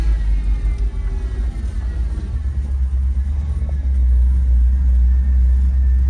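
1971 Ford F250 Ranger XLT Camper Special pickup driving and turning, a low steady engine rumble heard from inside the cab, moderately loud and continuous with no speech.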